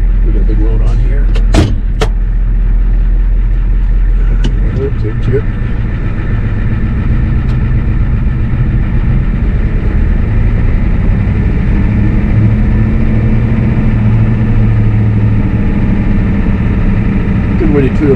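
A vehicle towing a trailer heavily loaded with big white oak blocks pulls away with loud, steady engine and road rumble close by, after a few clunks at the start, while someone talks over it.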